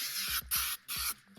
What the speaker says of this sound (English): I'm going to spray the other side there up top.